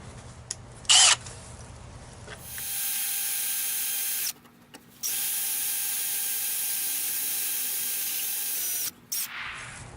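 A power drill bores into a stripped lug nut in steady whirring runs that stop and start, with brief pauses between passes and a faint clink near the start.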